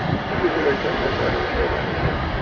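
A Delta Boeing 717 jet at Milwaukee airport gives a steady, broadband engine roar that holds even and unbroken throughout, with no distinct events rising out of it.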